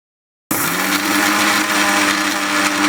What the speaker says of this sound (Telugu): ఎల్లిపాయ రెబ్బలు ఇందులో వేసేసుకొని మిక్సీ పట్టాలండి